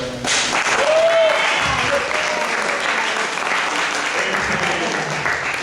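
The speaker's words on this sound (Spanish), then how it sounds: "Un aplauso para todos." An audience at a talk on geometry and cubist art in Ecuador breaks into loud, sustained applause, dense clapping filling the room for several seconds with a few cheers mixed in.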